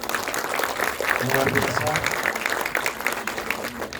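Audience applause for the cast at a film screening in a Jakarta cinema, clapping rising and falling under someone speaking over a microphone.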